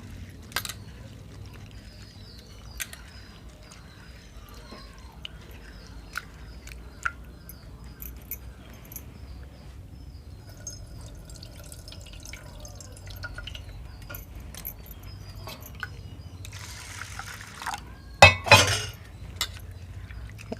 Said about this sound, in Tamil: இப்போ இந்த அரை கப்பு பாசிப்பயிரை நல்லா தண்ணியில் கழுவி எடுத்துட்டு வேக போட்டுருவோம்.